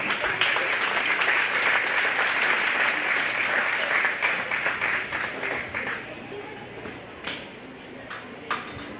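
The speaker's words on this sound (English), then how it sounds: "Let's give these exhibitors a round of applause" Applause for 4-H and FFA beef exhibitors at a county fair show rolls loud and dense at first, then thins to scattered claps as it fades.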